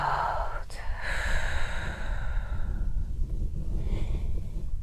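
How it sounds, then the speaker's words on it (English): A person breathes out audibly during a yoga session, one long, soft, airy sigh-like exhale followed by quieter breathing, close and gentle. "you can even make some noise breathing out, just letting go of everything you do not need anymore"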